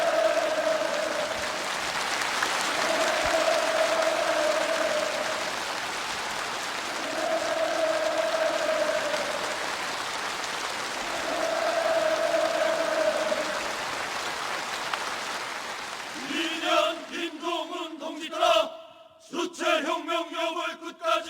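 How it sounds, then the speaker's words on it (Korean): A massed crowd at a youth congress roars repeated hurrah cheers in rhythmic waves every couple of seconds, loud and reverberant, before the chanting breaks off into choppier bursts at the end. "폭풍 같은 만세 환호성을"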